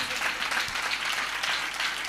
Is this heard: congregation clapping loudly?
yes